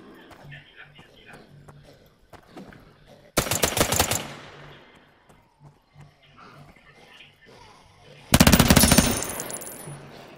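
Automatic gunfire in the video game OutlawZ, aimed at enemies at an airport: two loud, dense bursts of rapid shots separated by quieter game ambience, with a faint voice between.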